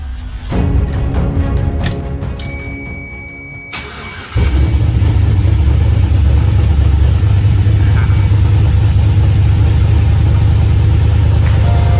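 A V8 engine swapped into a Toyota MR2 cranks with rapid starter whirring, then catches and fires into a loud, steady, close idle that holds for the rest of the clip.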